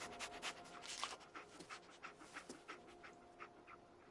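A dog in a PS4 video game pants in quick, rhythmic breaths, close and fairly quiet, over a soft steady background hum with no talk.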